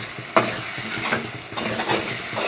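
A spoon stirs lauki curry with garam masala and cumin in a hot pan, giving scraping strokes over a soft sizzle, with one sharp clink near the start and another stirring pass later.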